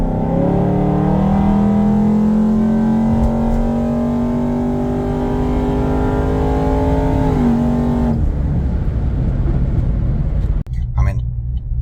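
A 5th-generation Camaro fitted with new -6 AN PTFE transmission lines rolls on and accelerates hard, its engine note climbing steadily through the rev range as a loud, close roar before cutting off abruptly. A brief clunk follows.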